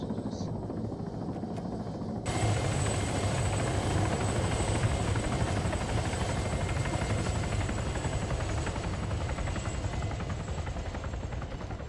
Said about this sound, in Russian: Стреляет по вертолету со северо-востока